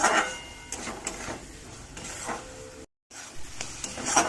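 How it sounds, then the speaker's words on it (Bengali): Spice masala for chicken curry sizzles and crackles in oil as it is stirred, a soft, steady frying hiss with occasional scraping taps and a brief dropout. "ভালো করে মশলাটা কষিয়ে নেব।"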